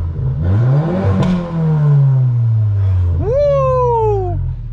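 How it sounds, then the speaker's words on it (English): A Volkswagen engine revving up, its pitch climbing then dropping as the car accelerates, loud and close, followed by a rising whooping voice. "Hey, Gabriella, you wanna hear a car?"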